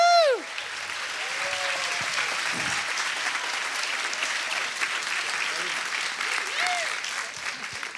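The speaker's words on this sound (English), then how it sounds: "Come on, stand on your feet, clap." An audience at a church service stands and claps, steady broadband applause filling the room, with a voice shouting and whooping over it at the start and near the end.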